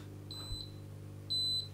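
Candy CDP 4609 dishwasher with an overflow fault gives two electronic beeps, a short one and then a longer steady tone, over a constant low hum from the machine.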